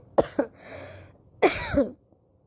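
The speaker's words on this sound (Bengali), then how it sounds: "ক্ষমা চাইছি মাঝখানে বলতে বলতে কাশি আসার জন্য" Two quick coughs near the mic from a person with a cold, a pause, then a longer harsh cough with throat clearing before silence.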